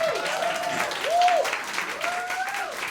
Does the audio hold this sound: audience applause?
yes